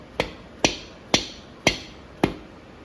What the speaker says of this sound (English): putting the main caps in, getting them in place. Get them tapped in.